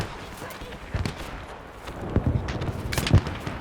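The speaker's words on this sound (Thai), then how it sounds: "โดนระเบิดแรงมาก" Explosions in Battlefield V thud and crack in several bursts, the heaviest near the end, over a busy battlefield din while a player talks.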